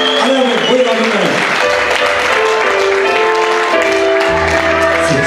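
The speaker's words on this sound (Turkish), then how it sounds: "Canlı bir alkış gelsin, kuvvetli bir alkış gelsin." Wedding guests at a Turkish wedding celebration break into lively applause, clapping mixed with loud music and voices in a busy hall.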